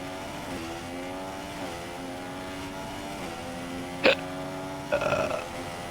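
A burp sounds once over a continuous race car engine drone with rising and falling gear whine during an F1 2016 multiplayer session at Bahrain, a short sharp burst near the end followed by a rougher, longer one.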